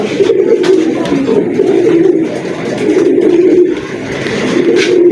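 Several pigeons coo steadily and close by, a low, continuous murmuring chorus that fills the whole stretch with no pause.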